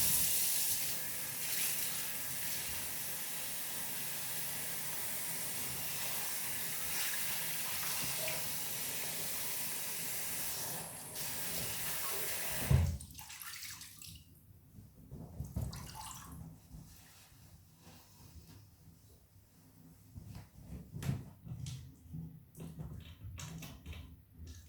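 Water runs in a steady loud hiss from a tap for about thirteen seconds while hair is rewetted before shampooing, then cuts off, leaving quieter splashes, drips and handling sounds nearby.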